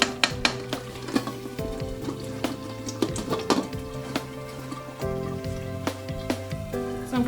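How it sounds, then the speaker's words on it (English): A Nigerian jollof stew base sauce being stirred in a pot gives a steady sizzle with scattered spoon scrapes and clinks against the pot, over sustained background music. "we're just going to stir it just so that it doesn't burn and leave it for a few more minutes"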